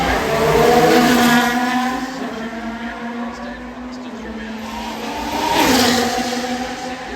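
A Formula 1 car on a personal best lap at the Singapore Grand Prix, its engine note rising and falling through corners, loud and sustained, with commentators talking over it.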